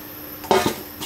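Mustard seeds shaken through a mother's household sieve, giving a few short, close scratchy rattles and taps separated by brief pauses, with no voices.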